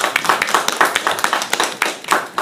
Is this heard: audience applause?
yes